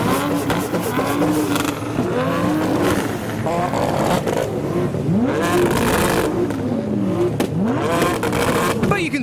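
Modified cars such as a 350Z, Supras, S15s and a GTR start up and pull away from a crowded night car meet, engines revving and rising in pitch again and again, loud and close, with people talking over the din.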